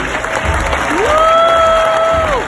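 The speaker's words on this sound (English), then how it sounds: "face the congregation, let them give you a round of applause" A church congregation applauding newly ordained senior elders, sustained dense clapping filling the room, with a long rising whoop or cheer riding over the hands.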